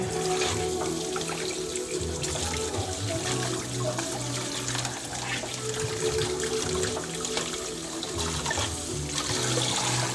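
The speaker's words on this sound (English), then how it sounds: "rinse this out, because I'm gonna need to put it in this container when we're done" Water runs steadily from a tap while a container is rinsed out after tie-dyeing, a continuous close splashing rush that lasts throughout with no voices.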